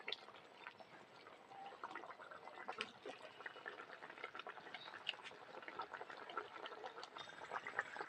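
Rohu fish in a thick mustard gravy with green chillies simmers in a pan, a steady faint bubbling and popping that goes on throughout, close and quiet.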